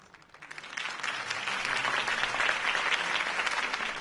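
Crowd applause in a Batman Telltale game scene breaks out after a campaign speech for Harvey Dent, rising over the first second into steady, dense clapping that holds loud to the end.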